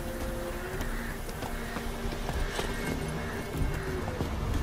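Horse galloping in The Witcher 3 video game, a steady rhythmic clip-clop of hooves over constant game ambience and music, no voices.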